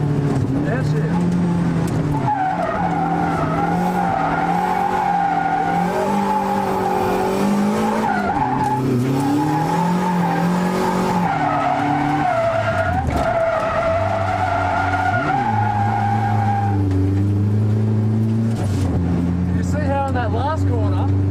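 A drift car, driven by someone used to an SR20-powered car, downshifts and slides through corners, its engine revving up and down loudly with long tire squeals and skids, with someone talking over it.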